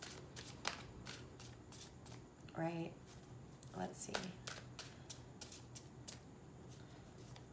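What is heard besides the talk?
shuffling tarot cards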